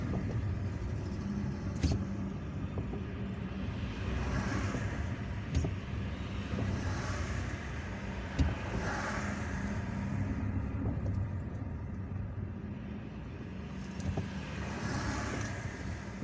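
A car drives through city streets in Algiers, heard from inside as a low steady engine and road rumble with occasional faint clicks and bumps, fairly quiet throughout.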